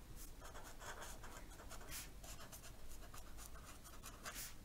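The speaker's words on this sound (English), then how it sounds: "So let me write that." A pen or pencil scratches steadily across paper, a faint, close, continuous scribbling with small strokes and pauses.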